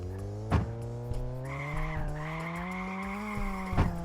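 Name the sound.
car drifting, tires skidding in video game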